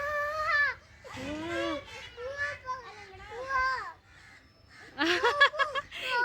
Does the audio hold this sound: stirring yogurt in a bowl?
no